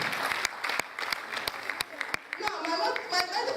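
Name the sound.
audience clapping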